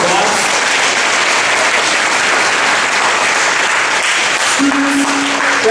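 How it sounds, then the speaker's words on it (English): Applause for Bronx high school students fills a ceremony hall, dense steady clapping from a big crowd throughout, loud and unbroken, with a faint tone entering near the end. "another round of applause for our students of the Bronx"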